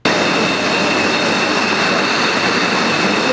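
A train rolls along the railway beside a grain elevator, a loud, close, continuous rumble and rush of cars passing with a faint metallic ringing tone sustained over the whole stretch.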